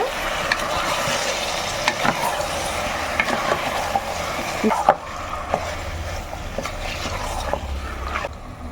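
Potato pieces are stirred into mutton kurma in a pan, a steady close sizzle of frying with scraping spoon strokes running throughout.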